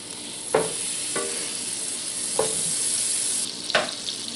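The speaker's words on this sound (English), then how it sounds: "And then I'm going to add my butter," Butter sizzles steadily in a copper pan as a roux is started, a continuous bright frying hiss with a few soft clinks of a utensil stirring, close and alone without talk.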